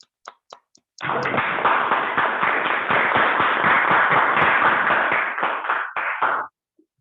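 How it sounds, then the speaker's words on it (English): A Toastmasters meeting audience bursts into applause after a few scattered early claps, a loud sustained patter of many hands for about five seconds before it cuts off abruptly. "Please give a big round of applause for yourself."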